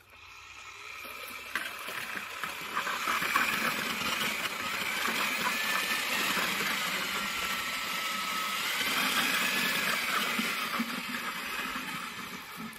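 A power mixer churns stampable concrete overlay mix in a bucket, producing a steady, fairly loud whirring drone that holds evenly for the whole stretch with no one talking.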